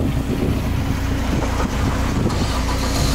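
Old VW van idling with a steady low engine rumble, mixed with outdoor wind buffeting on the microphone, close and continuous.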